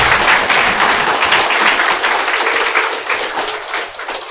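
A church congregation applauds in a packed room, loud continuous clapping from many hands that gradually thins and softens toward the end.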